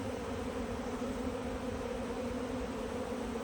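Dense, steady buzzing of many honey bees at a hive hums continuously and close by, with no pauses or voices.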